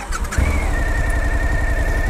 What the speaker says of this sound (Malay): So enjin V-twin yang sangat-sangat besar,